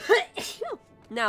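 A sneeze bursts out sharply during a game session, set among quiet speech: one voice talks briefly before it and another voice follows right after.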